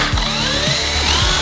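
Electric drills mounted on homemade turbo shoes whine loudly and steadily, with repeated pitch swoops as the motors rise and fall, close and continuous.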